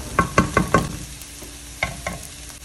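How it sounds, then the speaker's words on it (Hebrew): A spoon stirring black pepper and cumin into red lentil soup in a pot, with a few quick scraping strokes near the start and a couple more later, close and fairly quiet. "אני מוסיפה פלפל שחור וכמון ומערבבת"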